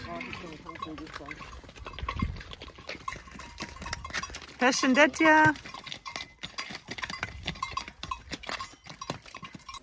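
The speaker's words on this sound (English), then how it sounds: "It's almost like right on cue. We get a pack horse." Hoof clip-clops of a pack horse near Ali Pasha Bridge in Gjirokaster, Albania, sound under outdoor chatter and ambient noise, with a brief louder stretch of voices in the middle.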